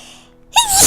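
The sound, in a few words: sneeze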